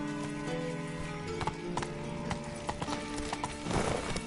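Horse hooves clip-clopping at a steady trot with a whinny near the end, in The Witcher 3 video game, close and clear over background game music.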